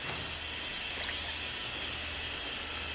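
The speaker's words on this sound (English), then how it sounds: "as we get more water flowing, the whole bed it begins to" Water flowing steadily into a garden bed holding parsley, corn and radishes, a soft continuous hiss and trickle with no distinct splashes, fairly faint and unbroken throughout.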